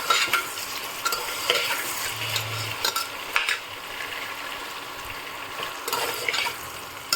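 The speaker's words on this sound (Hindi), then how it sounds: "सब्जी को भून लेते हैं" Eggplant and potato pieces sizzle softly in a pan for a simple pulao while a spoon stirs and scrapes through them. Light clinks and scraping taps are scattered over a constant frying hiss.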